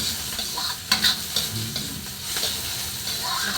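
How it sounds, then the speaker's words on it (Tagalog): Ingredients for Ilocano igado sizzle steadily in a pan while being stirred, with a constant frying hiss and a few scraping knocks of the utensil. "Haluin ko."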